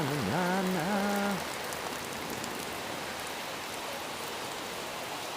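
Steady rain falling outdoors, a dense even hiss of drops on surfaces throughout, with a brief hummed melody over it at the start before the rain continues alone.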